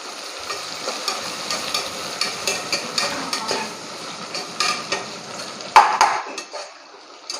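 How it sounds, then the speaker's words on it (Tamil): Onions and a handful of mint sauté in a pan on low heat for chicken biryani, a soft continuous sizzle broken by rhythmic stirring scrapes and a few sharp utensil clanks against the pan. "பார்த்திங்கன்னா நல்லா வதக்கிறேன்"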